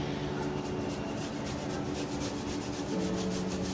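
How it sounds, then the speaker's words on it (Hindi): Peeled beetroot is grated by hand for a potato tikki chole chaat, giving a close, steady scraping rasp with a repeated rubbing rhythm against the grater. "इसको ग्रेट करके हम इसके अंदर डालेंगे"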